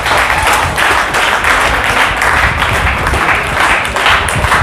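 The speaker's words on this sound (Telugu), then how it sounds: "అందరికీ గట్టిగా చప్పట్లు కొడదాం" Students in a counselling session applaud loudly together, a dense, continuous burst of clapping filling the room from start to finish with no pauses.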